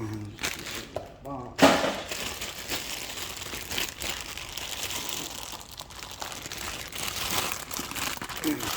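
A cardboard box holding a new neutral safety switch for a 1998–2001 Jeep Cherokee XJ is torn open, with a sharp rip followed by continuous close crinkling and rustling of packaging as someone speaks at the start.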